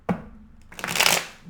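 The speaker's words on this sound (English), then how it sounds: "let's go ahead and get 3 shuffles." Tarot cards are shuffled close by: a soft tap, then a rapid riffling burst of cards fanning together, loud and crisp, with no voices.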